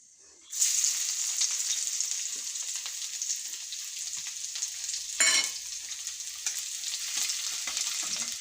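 Chopped garlic and shallots hit hot oil for a mulberry-leaf thoran, bursting into a loud sizzle after a moment of quiet, then crackling steadily with a brief louder flare midway.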